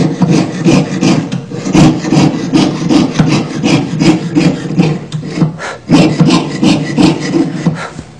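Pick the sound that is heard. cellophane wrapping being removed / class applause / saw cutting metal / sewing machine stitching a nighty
saw cutting metal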